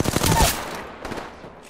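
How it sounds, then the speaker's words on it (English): Rapid bursts of automatic gunfire from the Apex Legends video game, a quick rattling volley up front that fades into a decaying echo within about two seconds. "Hostile spotted. Opening fire."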